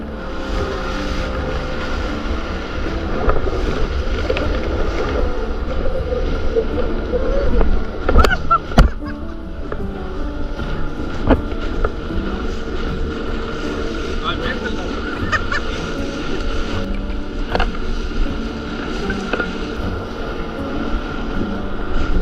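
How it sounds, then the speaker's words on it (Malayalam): Engine drone of a boat towing a bumper boat ride out at sea off Dhanushkodi, a steady motor and water noise running throughout with a brief bump partway through, no talk. "ഈ കാണുന്ന ബമ്പർ ബോട്ട് റൈഡ് ഒരു തവണ ട്രൈ ചെയ്ത് നോക്കിക്കോട്ടോ"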